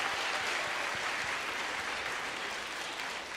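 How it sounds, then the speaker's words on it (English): Audience applause for a speaker at a music champion celebration, dense steady clapping from a crowd filling the room for a few seconds before easing slightly. "Can you please give a warm round of applause for Dr."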